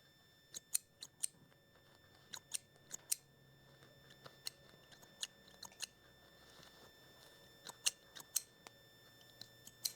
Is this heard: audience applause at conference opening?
no